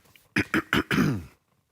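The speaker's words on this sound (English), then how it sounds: "I'm going to cough." Three quick, sharp coughs are followed by a longer raspy throat-clearing cough, close to the microphone, then quiet.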